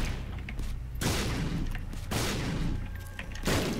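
Bombs explode in The Binding of Isaac Afterbirth: three or four sharp, broadband blasts spaced about a second apart, each followed by a short fading rumble.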